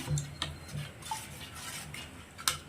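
A spoon stirs ragi dosa batter in a bowl, with soft scraping and clinking of utensil against the bowl, steady and close.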